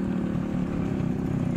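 A motorbike rolls downhill on a steep road near a dangerous viewpoint, its engine a steady, close, low drone running continuously throughout with no voices.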